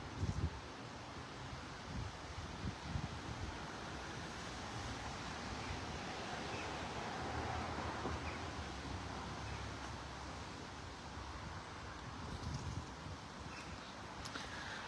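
Wind gusts outdoors among trees with pigeons about, a steady broadband rush with rustling leaves that swells slightly in the middle and carries on throughout, no voices.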